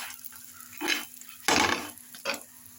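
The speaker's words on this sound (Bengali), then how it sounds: "সাদা তেল দিয়ে ভাজছি।" Aloo paratha frying in white oil in a frying pan, quiet hiss broken by three louder bursts of sizzling and scraping as it is turned and pressed, close by.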